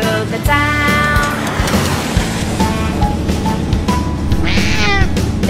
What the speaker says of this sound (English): The cat on the bus says, meow, meow, meow